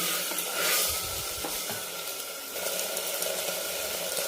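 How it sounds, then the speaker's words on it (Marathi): Liver sautéing in ghee in a pan gives a continuous close, bright sizzle that rises and falls slightly as the pieces are turned, with no voices. "आणि छान आपल्याला ह्या तुपामध्ये परतून घ्यायचे. 1 मिनिटभर परतून घेऊ."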